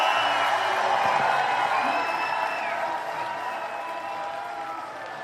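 A rally crowd in Truro, Nova Scotia cheers and applauds in a broad roar of clapping and whoops that slowly fades over a few seconds.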